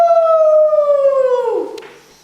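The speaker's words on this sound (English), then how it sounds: "Puppies are dogs and dogs howl." A dog howls in one long, close, loud wail, holding a steady tone that slowly sinks in pitch before trailing off, alone.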